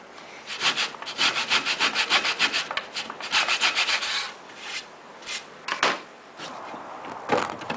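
Wooden deck boards and glued dowel plugs are sanded by hand in a repair, giving loud close rhythmic rasping strokes in quick runs, pausing briefly, then resuming with a few slower single strokes.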